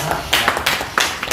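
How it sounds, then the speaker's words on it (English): Children clap in a Montessori classroom presentation: a short burst of irregular, uneven handclaps, fairly close and moderately loud, with some faint voices mixed in. "Clap for him."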